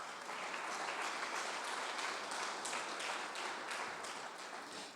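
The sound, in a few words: congregation clapping hands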